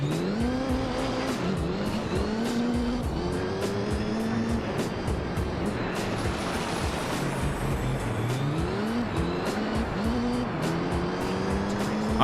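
Race car in Gran Turismo 3 during a Pikes Peak run: a steady, loud engine that rises and falls through gear shifts, with tires squealing repeatedly through corners and no talking over it.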